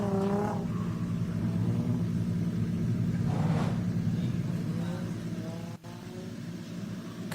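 A drift car with a JZ turbo engine runs around a track during a drift series test drive, a steady loud engine drone with rising and falling revs, close and continuous throughout.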